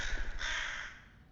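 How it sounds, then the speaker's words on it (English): A single loud, close crow caw, harsh and drawn out, fading away over about a second. "Crows."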